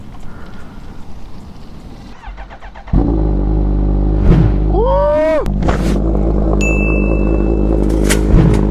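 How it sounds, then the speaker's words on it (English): A Kawasaki Ninja H2 motorcycle with a Van Diemen exhaust fires up from cold: quiet rustling, then a sudden loud start, a rising rev and a steady, deep, burbling idle close by. "Let's get this cold start going"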